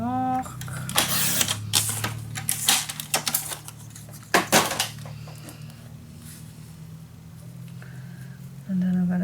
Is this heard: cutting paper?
yes